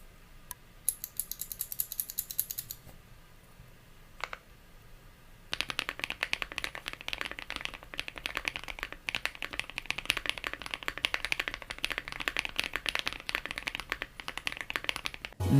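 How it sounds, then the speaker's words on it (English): Typing on a mechanical keyboard fitted with Gateron linear switches: rapid, dense keystroke clatter, sparse and lighter at first, then a sustained busy stream of clicks. "Here is a sound test of some Gateron HIPAA switches."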